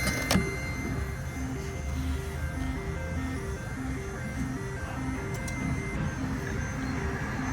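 Nationwide ATM printing a receipt after an envelope deposit, a steady mechanical whirr with a regular repeating pulse, close and moderately loud, running continuously without speech.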